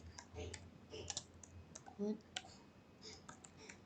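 Keys clatter on a computer keyboard as input is typed, a string of light irregular clicks up close and quiet, with soft background noise and no clear talking.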